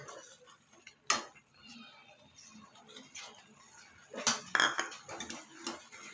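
Grated coconut is worked into kalasu rotti dough in a bowl, making quiet, uneven scrapes and light clinks of a utensil against the bowl, with louder clusters toward the end.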